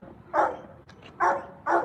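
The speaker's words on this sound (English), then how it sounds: "Whitney, you wanna see the dog? Look. It's the dog right here." A pet dog gives three short barks, spaced apart and fairly close, with nobody talking.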